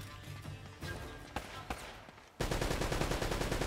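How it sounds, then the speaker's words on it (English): Rapid bursts of automatic gunfire in Uncharted: Drake's Fortune, with scattered sharp shots giving way to a dense, loud, continuous rattle of fire with no talk. "I still hear shooting"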